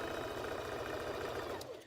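A sewing machine runs steadily and close by, stitching a stretched hem band on a Valentine's Day dress, its needle chattering in a fast even rhythm before slowing and stopping near the end.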